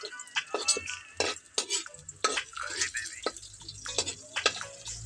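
Garlic and onion are stirred together in a pan for a squash dish. A spoon scrapes and clinks against the metal in irregular bursts, fairly quiet and close, with no talking.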